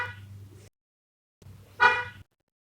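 Car horn sound effect honking twice, a short blast followed by a longer, louder one after a brief gap, standing alone with no talk over it.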